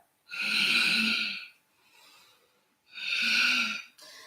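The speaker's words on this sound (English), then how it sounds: "maybe using a little Ujjayi breath, inhaling and exhaling through the nose, almost constricting the larynx on the exhale" Ujjayi breath drawn in and out through the nose with a constricted throat: two long, loud, rushing breaths with a softer, quieter breath between them, close up and alone.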